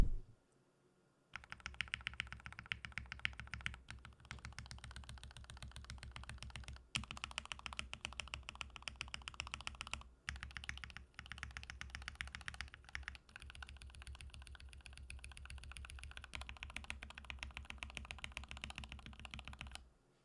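Rapid, steady keystrokes clack and thock on a modded Feker IK75 mechanical keyboard with paper-shimmed keycaps, close and clear, with brief pauses between bursts of typing.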